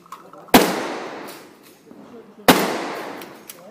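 Two loud gunshots at a shooting lesson, about two seconds apart, each a sharp crack followed by a long echoing decay, with faint background noise between.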